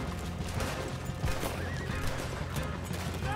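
Horse in Red Dead Redemption 2 whinnying amid clip-clopping hooves and game ambience, the neigh fairly faint and mixed into a dense, steady background.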